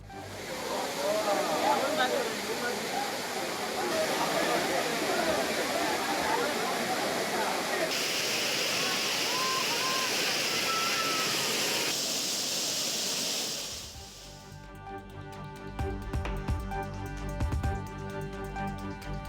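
The Courtallam waterfalls pour down where tourists bathe, a dense, loud, broadband roar of falling water that rushes steadily for most of the stretch before shifting near the end.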